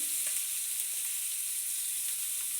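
Cabbage sizzles steadily in a hot frying pan of cumin-spiced oil, a continuous bright frying hiss with faint stirring scrapes throughout, close and alone.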